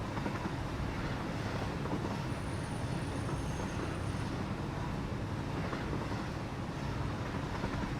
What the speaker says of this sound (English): The train makes this trip so much better.